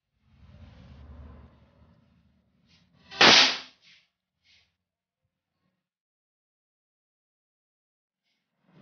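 A pull-thread firecracker (thread-pull Diwali cracker) bursts once with a sharp, loud crack, following a soft rustling handling sound, then near silence.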